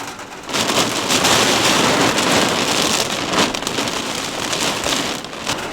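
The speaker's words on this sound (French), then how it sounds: "Je pense que vous entendez, ça pleut, hein." Heavy rain drums steadily on car windows during a sudden downpour in Mostar, a dense, loud hiss that fills the clip on its own without a break.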